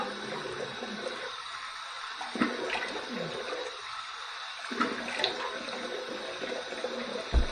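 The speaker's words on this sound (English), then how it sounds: "Here's my warm water rinse." Warm water running from a tap for a rinse during a wet shave, a steady hissing stream with faint splashing, alone and fairly quiet.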